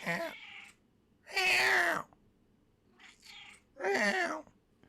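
A pet cat meows four times, alone, in drawn-out indoor calls of varying length that come in two pairs separated by short pauses, close and fairly loud against a quiet room.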